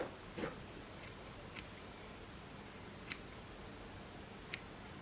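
A few sharp, isolated snips of scissors cutting a hair fringe, quiet and close, spaced irregularly against a low steady background hiss.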